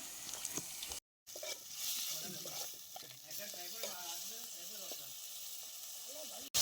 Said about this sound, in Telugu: కడిగిన మటన్లా అల్లం పసుపు కలిపి పక్కకు పెట్టిన. ఇప్పుడు వేస్తున్నా.